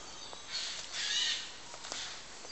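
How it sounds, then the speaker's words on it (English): A pair of jays, members of the crow family, give harsh raspy squawks outdoors, a couple of calls at moderate distance with one longer squawk in the middle and fainter ones after. "If you wonder what that squawking is, they're jays. It's a pair of jays."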